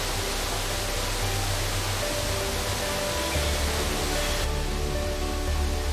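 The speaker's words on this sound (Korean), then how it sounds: "쏟아지는 폭포 물줄기" Waterfall pouring down in deep forest mountains in Guadeloupe or Costa Rica, a steady broadband roar that stays even and constant throughout with no voices.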